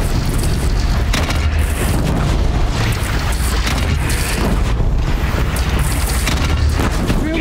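Gun firing in Horizon Zero Dawn makes booming, explosive blasts over a constant loud rumble, with repeated heavy thumps spaced through the stretch.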